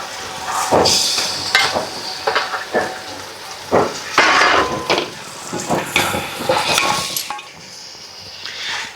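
Chicken pieces are being stirred and turned through masala in an oiled pan for chicken biryani, with steady sizzling and repeated scraping strokes at close range.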